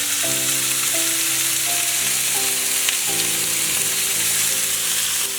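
Onion, green chillies and turmeric frying in a pan, a loud continuous sizzle close by with faint tonal ringing underneath, no talking.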